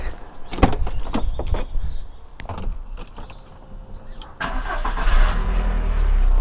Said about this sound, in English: just give it a little rev.